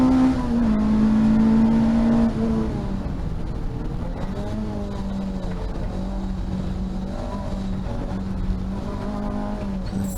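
A race car engine at Rockingham circuit in a Tricolore racing series race, loud and close, its pitch sweeping as it revs and shifts gear through a chicane, sustained throughout with no talk.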